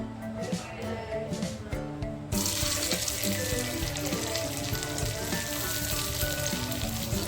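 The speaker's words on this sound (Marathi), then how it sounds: "त्याच तव्यामध्ये शॅलो फ्राय करणार आहे" Steady oil sizzle as food shallow-fries on a hot iron bhakri griddle, with broadband crackle, growing louder partway through and continuing without pause; faint background noise.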